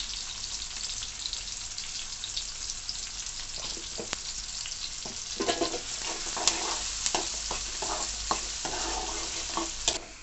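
Onions and green chillies frying in a pan until browned, a steady dense sizzle throughout with repeated scraping stirs and clinks growing more frequent toward the end, close by and with no voices.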